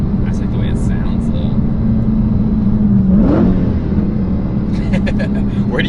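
Dodge Challenger Hellcat engine droning steadily while driving, a loud continuous interior rumble with a brief rising rev in the middle and light clicks, voices talking faintly over it.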